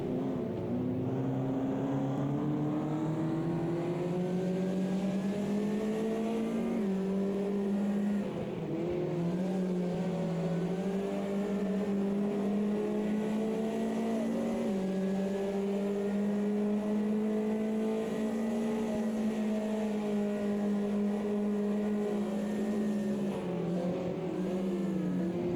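Onboard a race car during Crest League Round 4, the engine drones steadily and loudly, its pitch climbing through the gears, with brief dips where the driver lifts or shifts before it pulls up again.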